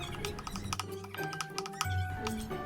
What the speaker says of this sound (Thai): แล้วก็สับๆเลยนะครับ